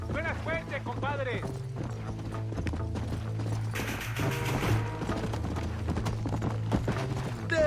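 Horse hooves clip-clop steadily in Red Dead Redemption, a loud, continuous gallop rhythm with occasional crashes and game effects, while voices talk over the hoofbeats.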